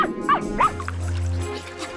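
An animated cartoon dog gives two quick high yips close by, followed by a steady low hum.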